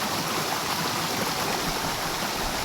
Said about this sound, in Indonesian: Tapi gimana air terjun ini indah.